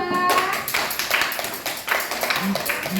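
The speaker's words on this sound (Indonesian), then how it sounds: "Kasih applause untuk kelompok 2" Classroom applause for a student group, a short burst of hand clapping from pupils that rises and falls over a few seconds, with voices mixed in underneath.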